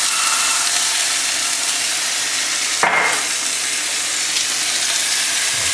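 An egg fries in a pan inside a cookie cutter, a steady close sizzle of hot oil and steam that holds evenly throughout, with one brief sharp tap partway through.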